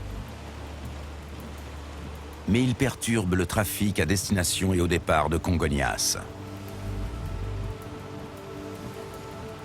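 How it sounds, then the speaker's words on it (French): Steady hiss of heavy winter rain in São Paulo, Brazil, runs throughout, with someone talking over it for a few seconds in the middle. "Une pluie battante s'abat sur la plus grande ville du Brésil."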